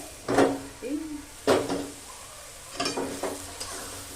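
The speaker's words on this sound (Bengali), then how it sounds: "হতে দেওয়ার পর আবার আমি নাড়ছি" Grated carrots cooking in ghee in a pan are stirred in several scraping strokes over a soft, steady sizzle, close and moderately loud.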